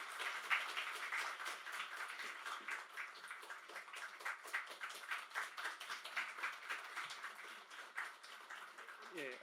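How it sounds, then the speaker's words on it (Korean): Applause from a church congregation welcoming a pastor at a revival service, steady rapid clapping throughout with a faint voice near the end. "우리 사랑하는 마음으로 큰 박수로 좀 모시도록 하겠습니다."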